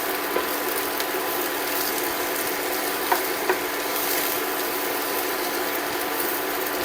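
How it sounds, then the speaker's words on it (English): Sliced mushrooms saute in a hot pan with a steady, close sizzle and crackle, broken by a few faint clicks of stirring. "Now, you take 1 container of sliced mushrooms. Okay. And you saute all of that."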